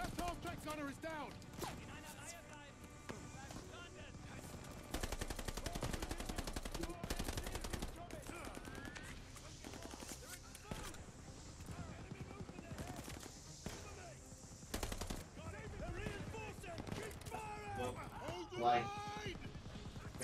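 Sustained automatic gunfire from a World War II shooter game, Call of Duty Vanguard, bursts rattling loudly through a chaotic battle mix with shouted voices over it, with a half-track vehicle in the fight.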